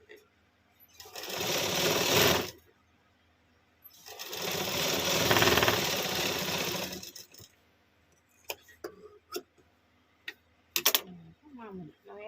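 A sewing machine stitches piping onto a blouse in two loud, sustained whirring bursts, followed by scattered clicks and small handling taps.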